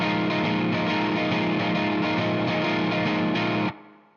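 Distorted electric guitar riffs through a tricky, syncopated two-bar rhythm figure from a song in a lesson setting, loud and steady with chugging strums and accents, then cutting off sharply near the end.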